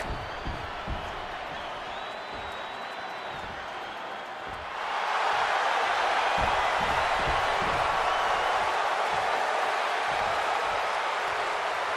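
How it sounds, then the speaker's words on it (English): Arena crowd in the video game WWE 2K26, a steady murmur that suddenly swells into loud, sustained cheering and roaring from a capacity crowd, holding at full volume to the end. "And this capacity crowd just exploded."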